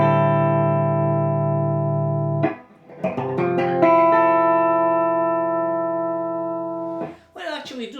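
Electric guitar on a clean channel through a pedalboard effects loop with an Empress buffer, playing sustained ringing chords. Notes are struck at intervals and let decay, then a brief burst of scratchy noise comes at the end.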